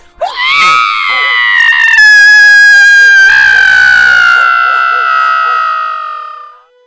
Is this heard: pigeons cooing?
no